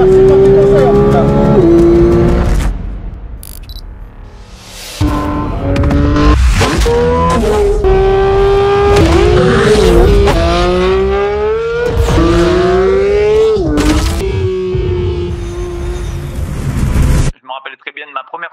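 Porsche GT3 RS race car lapping the Paul Ricard circuit: a loud, close engine revs up and down through repeated gear changes, its pitch climbing and dropping over about seventeen seconds before cutting off. Voices can be heard under the engine.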